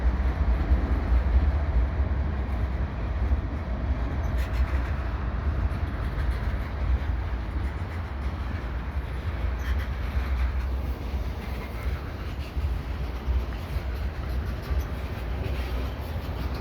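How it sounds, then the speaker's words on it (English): CN mixed freight train led by a single locomotive, with high gondola cars, rolling past in winter; a steady loud rumble of wheels and cars with faint rhythmic clatter, continuous and without talk. "With a single locomotive up front, so that means there will be a DPU unit somewhere"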